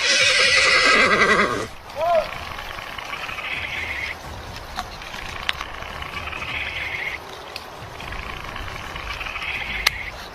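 A horse lets out a loud whinny at the start, then quiet rustling outdoor ambience follows with scattered clicks and soft knocks.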